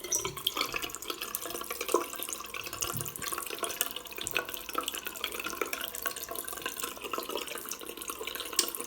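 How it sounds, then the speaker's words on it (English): A bathroom tap, just fitted with a new washer after a leak at its base, runs steadily, a close, even rush of water with faint splashing and no voices. "now we're just going to turn on the tap and make sure that there's no leaks"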